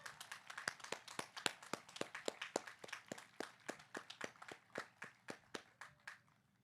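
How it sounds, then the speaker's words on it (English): A few individual claps at a high school graduation ceremony, sparse and evenly spaced, faint and distant in a large space, with no talking over them. "Let's give him another round of applause."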